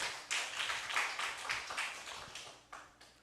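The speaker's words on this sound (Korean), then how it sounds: "하나님께 영광의 박수 올리겠습니다." A church congregation clapping in praise during a worship service, with a burst of uneven applause that swells and fades over a few seconds, with a few sharper claps near the end.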